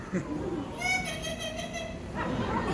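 A parrot imitates a cat with a high, drawn-out meow-like call that rises and falls against a quiet setting.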